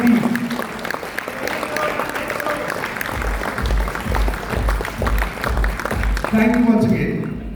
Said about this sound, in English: So a big round of applause to my team